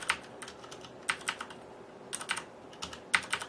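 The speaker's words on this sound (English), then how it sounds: "the actual keycap is hitting the base of the Cherry MX switch" Keycaps bottoming out on Cherry MX switches of a Corsair Vengeance K70 RGB mechanical gaming keyboard, heard as bursts of clacky keystrokes in quick clusters of three or four, close and crisp with short pauses between, no voices.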